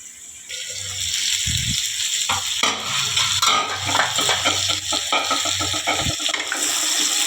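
Tamarind leaves frying in a pan, with a steady close crackling sizzle and occasional scraping stirs against the metal, continuous and loud with no talking.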